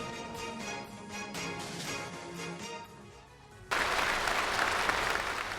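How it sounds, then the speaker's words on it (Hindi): Applause fills a hall in Beijing at a Chinese Communist Party congress. Rhythmic, moderately loud clapping first comes in pulses, then swells into a dense, sustained ovation. "तालियों की गड़गड़ाहट से गूंज उठा बीजिंग में चीन की कम्युनिस्ट पार्टी के अधिवेशन से जुड़ा सभागार"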